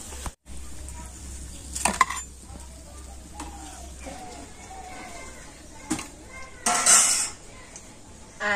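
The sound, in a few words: lifting fried bread pitha out of the pan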